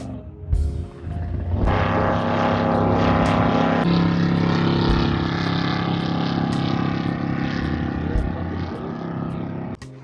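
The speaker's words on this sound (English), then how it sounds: "On the water, there was a lot more boat activity than any of the previous days" A steady, loud engine drone from motorboats on Lyman Lake, holding evenly throughout with a rough, humming roar.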